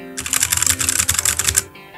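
Machenike K500 mechanical keyboard with brown switches being typed on, a rapid close run of clacking keystrokes lasting under two seconds.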